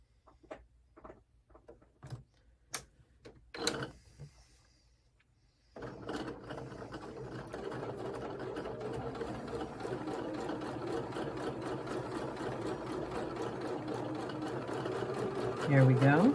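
Domestic sewing machine stitching a scrappy sampler quilt block: a few isolated needle taps, a pause, then a steady, close, continuous run of rapid mechanical stitching that lasts to the end, with a voice speaking briefly early on.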